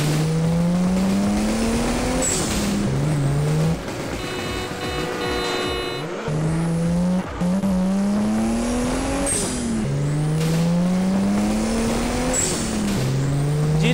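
A VW Gol Copa with a turbocharged 1.9 AP engine roars in a video game, revving and shifting through repeated rising engine pulls with tire squeal, loud and continuous, with no voices.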